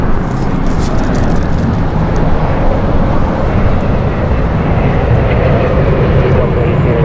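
A loud, steady roar of an airplane at Los Angeles International Airport fills the whole stretch, a broad constant rumble heard close by with radio chatter running over it.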